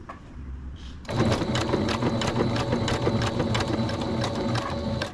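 Sewing machine running fast and close, stitching a buttonhole on a two-piece pant suit, a rapid steady needle rhythm starting after a second of quiet and continuing alone.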